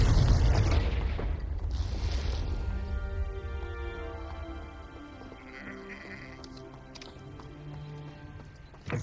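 Spell explosion cast in Hogwarts Legacy: a loud, heavy blast at the start that fades into a lingering rumble and softer game ambience, with faint tonal music underneath.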